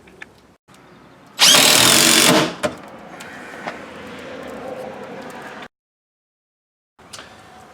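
A power drill drives a screw through a wall cabinet into a stud in one loud, close whirring burst of about a second, followed by quieter handling noise and a short silence.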